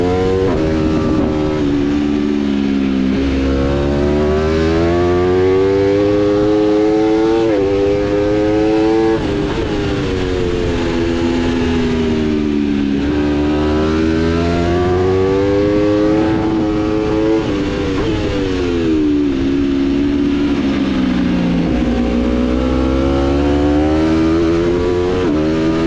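A racing motorcycle engine screams loudly throughout at Hockenheim during an IDM race, revving up and down through repeated gear changes as it accelerates hard and then backs off.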